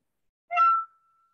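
A single short tin whistle note played with all three finger holes plus the top two covered, clear and alone, lasting about half a second before stopping.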